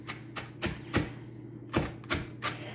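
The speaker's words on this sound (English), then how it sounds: "Watch how I chop it, it's very easy." A knife chops freshly rinsed cilantro on a cutting board, giving about eight crisp, evenly spaced thuds at a steady rhythm, close and moderately quiet with brief pauses between strokes.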